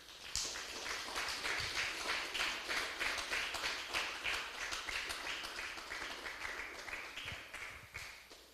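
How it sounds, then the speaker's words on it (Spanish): A church congregation claps together in strong, steady, rhythmic applause that carries on for several seconds at moderate volume without speech over it. "Den un fuerte aplauso al Señor"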